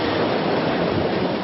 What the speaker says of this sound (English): Out of nowhere, a 70-foot wave slams the boat.